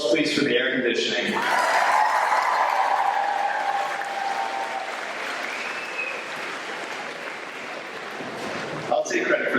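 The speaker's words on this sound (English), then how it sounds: "A round of applause, please, for the air conditioning." Audience applause at a 2024 high school graduation ceremony, a sustained wash of clapping from a large crowd that swells then slowly tapers, with brief speech at the start and end.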